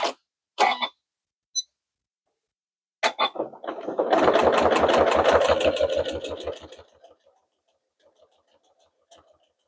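A sewing machine stitches quilt binding from front to back with fusible tape, running in one close, steady, buzzing burst of about two and a half seconds after a few scattered clicks and handling noises.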